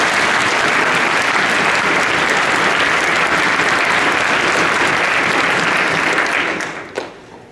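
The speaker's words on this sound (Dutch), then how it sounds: "Dus ook daar graag een groot applaus." An audience claps loudly and steadily at a Model European Parliament general assembly in the Netherlands. The dense, even applause carries on for about six seconds, then thins out and fades.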